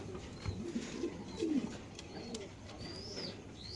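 BRPFC racer pigeons cooing in soft, low, rolling phrases with a few faint chirps mixed in, steady and moderately close, with no voices.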